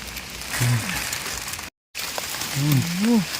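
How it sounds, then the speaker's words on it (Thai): Heavy rain falls steadily in a forest near Mae On, Chiang Mai, during mushroom foraging, a constant broad hiss under people talking nearby. "ฝนมันตกคัก มันนี่ก็ยังตกคัก"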